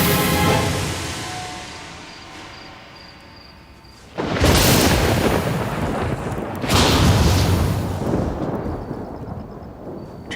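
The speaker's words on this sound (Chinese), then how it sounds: "这山上怎么会有红色的闪电？" Deep rumbling thunder from red lightning striking a mountain, heavy and loud, with two sudden booming crashes that roll on and fill the whole stretch after a quieter opening.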